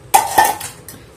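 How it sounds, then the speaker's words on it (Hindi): Milk cream being tipped into a cooking pot (kadhai) while making ghee at home, heard as two close, bright clanks of metal utensil against the pot, followed by a lighter scrape. "ये देखिए मैंने सारी मलाई इसके अंदर डाल दी है।"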